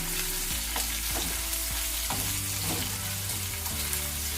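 Onions and grated ginger fry in a pan, a steady broadband sizzle with a low hum underneath and a few soft stirring scrapes, close and unbroken with no voices.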